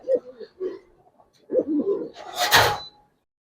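A pigeon in a loft coos in short, low, throaty bursts nearby, followed by a louder rustle or flutter near the end.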